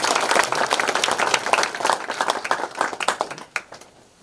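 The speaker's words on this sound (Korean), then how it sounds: "역대 전 연합회장님들에게 다시 한번 힘찬 박수 부탁드립니다" Audience applause for former women's federation presidents at a volunteer fire brigade day ceremony in Hamyang, dense clapping from many hands that holds steady, then thins out and stops near the end.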